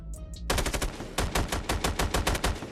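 An XM4 assault rifle firing in Call of Duty Mobile: a short click, then two rapid automatic bursts of loud, evenly spaced shots with a brief pause between them.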